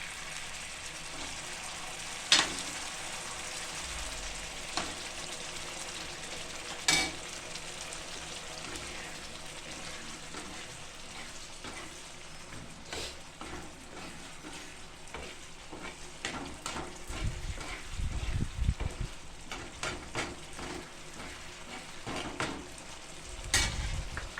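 Bhaji vegetable mash with red chilli hits hot oil in a pan for pav bhaji, giving a steady close sizzle with occasional scraping stirs and louder frying bursts toward the end.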